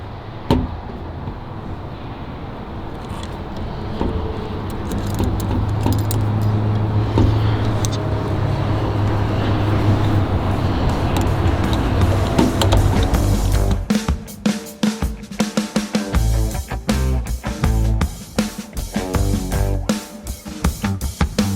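A power driver running screws into a TownSteel E-Smart 5000 series electronic lock during installation: a long steady whirring drone, then a stretch of rapid ratcheting clicks and stuttering motor bursts, loud and close.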